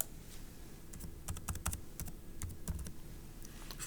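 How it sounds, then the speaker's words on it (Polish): Keys tap on a computer keyboard in short irregular bursts of clicks, close and fairly quiet. "W tym polu wpisujemy login"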